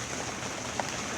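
Rain falls steadily outdoors beside a Corsair travel trailer under roof repair, a soft continuous broadband hiss with a couple of faint drop taps, no voices.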